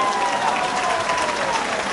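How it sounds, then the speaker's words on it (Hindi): At a political rally, a large crowd gives steady, continuous applause that fills the whole moment, with a dense wash of claps and murmur. "जोर से ताली बजाओ सेंटर में चकमा के लिए सभी लोग।"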